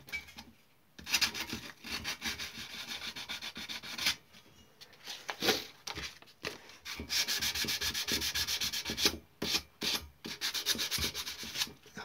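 Hand sanding of bodywork with 240-grit sandpaper, close rhythmic back-and-forth rasping strokes in repeated bursts separated by brief pauses, loud and alone without talking.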